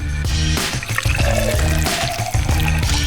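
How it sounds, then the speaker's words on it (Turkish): A thick blended drink poured from a blender jug into a glass, a loud close gurgle and splash running the whole time with brief tonal ringing from the glass, no talk. "Şimdi de bir bardağa dökeceğim"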